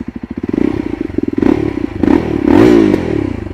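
A 2024 Yezdi Adventure motorcycle revs close by, its throaty exhaust rising and falling through several throttle blips over a pulsing idle.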